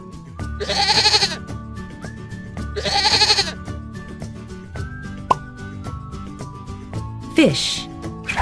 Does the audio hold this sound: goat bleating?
yes